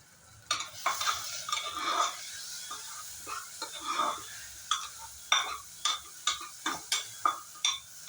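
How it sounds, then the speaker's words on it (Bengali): Lentil masala with turmeric and salt frying in a pan while a spoon stirs, a steady run of scraping strokes and clinks over a soft sizzle, growing more rhythmic toward the end. "আবারও একটু সময় ভালো করে ফ্রাই করে নেব।"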